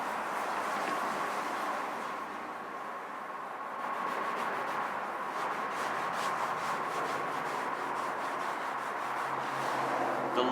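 Steady rubbing of a cloth or applicator as ceramic coating sealant is worked into the painted skin of a Piper M600 aircraft, a continuous close swishing friction that swells slightly in the second half, with no talk.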